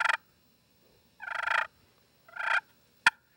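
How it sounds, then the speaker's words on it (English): Aluminum turkey call giving a short note, two rolling purrs, then a single sharp cluck, all close and clear against silence. "Does beautiful purrs."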